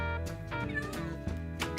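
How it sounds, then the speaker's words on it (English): Several short, fairly quiet meows from a new kitten in a Minecraft game, heard over steady background music. "We've got a new kitten in the house."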